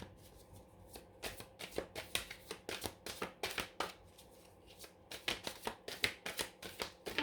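Tarot cards riffle and slap together in quick repeated shuffles, a dense rhythmic papery flutter close to the ear with brief pauses between bursts, and no talking over it.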